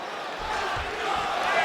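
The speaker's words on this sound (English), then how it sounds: "crowd just loving it as the fighters, after an extended grappling battle, make their way back to the field" Steady arena crowd cheering and murmur from the EA Sports UFC 5 fighting game, a continuous roar of noise during a Khabib Nurmagomedov versus Jon Jones bout, filling the background without breaks.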